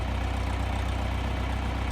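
A tractor engine idling on a cattle farm, a steady low rhythmic throb with even pulsing and constant loudness, close by with no talk.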